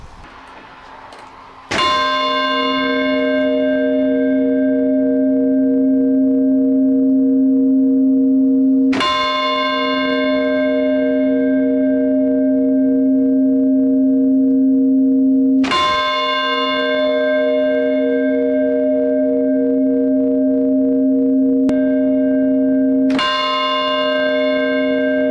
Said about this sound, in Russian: Колокольный звон, он лечит.